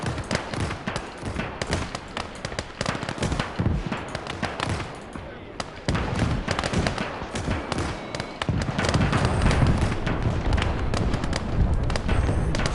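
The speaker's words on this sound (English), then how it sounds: "I'm just going to call in the artillery strike there." Artillery strike explosions in the game Call to Arms: Gates of Hell – Ostfront, a dense rumbling barrage of heavy blasts and crackling gunfire that thickens into a sustained roar, with someone talking over the din.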